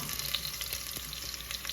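Spices and seasonings sizzle in a hot pan over high heat, a steady close crackle and hiss that holds evenly throughout with no voices.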